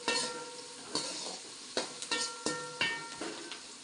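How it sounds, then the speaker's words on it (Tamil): Mutton being stirred in a cooking pot, with repeated scraping strokes about every second over a steady sizzle, close and fairly loud, with no talking. "நல்லா கிண்டணும் பாருங்கள். நல்லா கிண்டினா தான் சூப்பராக இருக்கும்."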